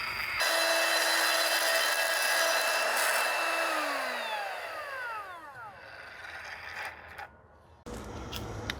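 A cutting tool bores out the center of a wheel hub for a 1969 GTO Currie rear axle swap, giving a loud, steady metallic whine with a rising then falling harmonic sweep, then stopping abruptly near the end.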